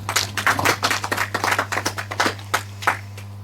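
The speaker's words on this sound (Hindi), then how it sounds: "एक बार जोरदार ताली हो जाए।" An audience at a children's quiz show claps in a quick round of distinct, close hand claps that thin out toward the end, over a low steady electrical hum.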